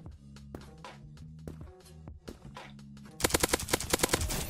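Rapid bursts of auto pistol fire in the online shooter Krunker.io, a quick string of punchy, closely spaced shots that cut in loudly over the game's background music.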